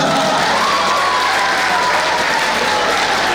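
A seminar audience claps loudly and steadily, a dense wash of applause that holds at full strength for a few seconds.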